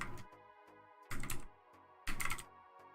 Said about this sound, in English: and then I just start typing password